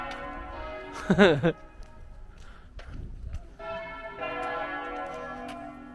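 Church bells ring near an Italian lake, a bright chiming burst early on, with further bell tones and a soft background of footsteps and ambient outdoor noise.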